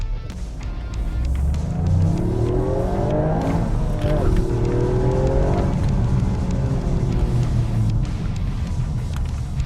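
A Toyota GR Yaris accelerates hard in first gear in normal drive mode. Its engine revs climb loud and close through a rising pull, with a person talking over it.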